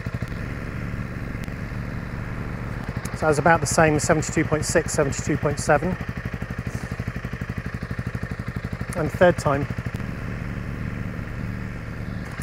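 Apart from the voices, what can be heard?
Honda CRF300 Rally stock exhaust revving, noise test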